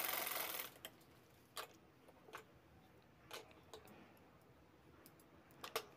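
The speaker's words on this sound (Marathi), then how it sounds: "आता इथे परत मी फोल्ड करून शिवते" A sewing machine stitching folded fabric for a little girl's dress: a brief whir at the start, then quiet scattered clicks and short needle bursts at irregular intervals, faint and close.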